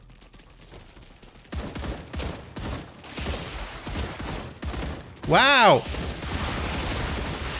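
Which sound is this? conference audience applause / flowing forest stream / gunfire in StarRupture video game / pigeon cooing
gunfire in StarRupture video game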